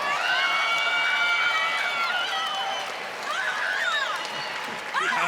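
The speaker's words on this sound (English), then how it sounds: "let's have a huge round of applause for these amazing warriors" A crowd applauds and cheers for the fighters after a five-round bare-knuckle bout at a KnuckleMania event, roaring throughout under loud, overlapping shouts and whistles.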